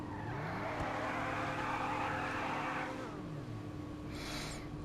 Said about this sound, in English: let's have a quick preview of how it sounds